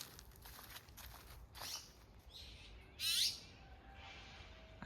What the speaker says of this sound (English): it's one of those blue magpies